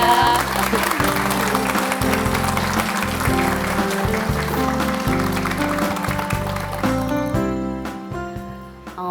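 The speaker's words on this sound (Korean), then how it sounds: "박수 보내주시기 바랍니다" A Korean morning TV studio audience welcomes a guest lecturer with applause over a band's loud musical sting; the music cuts off near the end and leaves sparse clapping.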